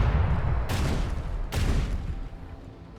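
A gunfire salvo in Warhammer 40K Rogue Trader, two sharp loud shots cracking over a dense rumbling battle din, close and forceful, the rumble easing toward the end.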